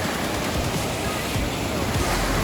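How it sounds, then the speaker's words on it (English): Rushing water from the Gandahati waterfall in Gajapati district pours as a dense, steady broadband roar, loud and close throughout with no break. "This is the Gondahati waterfall."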